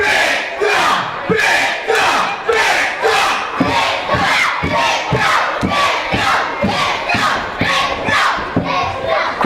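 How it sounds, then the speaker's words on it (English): A crowd at a Halloween pro wrestling event chants in a loud, rhythmic group, repeating the same shouted phrase in steady beats with cheering underneath, filling the hall throughout. "Crowd firmly behind John Campbell"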